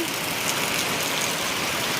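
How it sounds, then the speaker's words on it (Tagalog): Heavy rain pours down in a steady, dense hiss that stays loud and even throughout, with no voices. "Oh, ang lakas na naman po ng ulan."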